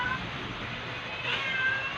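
Two pet cats at home, with a faint meow or caterwaul rising briefly over a steady hiss of room noise, no voices present.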